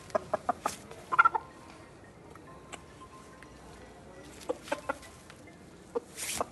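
A big rooster clucks in short bursts close by, a run of clucks at the start and more toward the end, with quiet stretches between.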